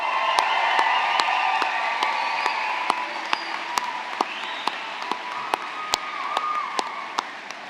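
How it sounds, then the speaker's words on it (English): A graduation ceremony crowd applauds the secondary school class of 2023, a broad steady wash of clapping filling the hall with sharp individual claps popping out, sustained for the whole stretch. "How about one big more round of applause for our grad class of 2023?"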